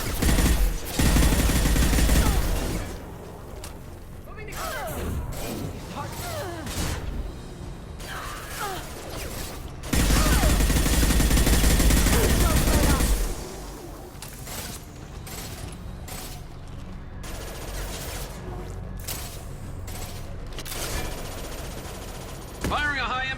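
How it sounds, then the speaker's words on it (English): Bursts of rapid automatic gunfire in the sci-fi shooter Mass Effect 2 during a fight with Eclipse mercenaries near a shuttle, loud and sustained in two long volleys with scattered single shots and combat noise between, with voices talking throughout. "Firing a high-impact shot!"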